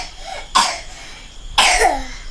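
Two short, close coughs a second apart, each a harsh burst with a throaty tail, in a quiet room.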